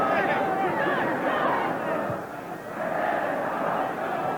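A large football crowd at a Chelsea match murmurs and roars appreciatively, a broad, swelling hubbub that dips briefly and rises again beneath a commentator's voice.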